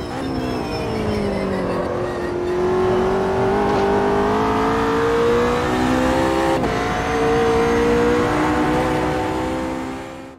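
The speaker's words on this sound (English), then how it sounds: "While the sounds are inoffensive and vaguely resemble the 720S GT3, I could swear I've heard the exact same transmission sound on other AMS2 cars" The engine and transmission of a McLaren 720S GT3 in Automobilista 2 rev loudly and steadily, pitch climbing through the gears with one sharp shift click partway, and the car's drone stays close throughout.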